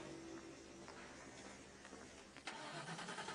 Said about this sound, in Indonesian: Itu bukan suara mobilnya Niken. Itu anu Pak, itu motor panggilan yang mau bawa mobil Bu Niken ke bengkel Pak